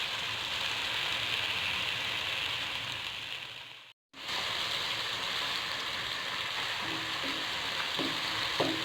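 Tomatoes with salt frying in a pan for aloo anda curry, a steady close sizzle with brief stirring, cut by a sudden short silence midway before the hiss resumes.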